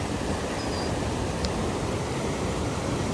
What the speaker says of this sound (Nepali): हामी चाहिँ फाइनली नाइगारा फल पुगेका छौँ